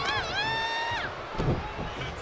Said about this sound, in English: Jacob Fatu feeding off the crowd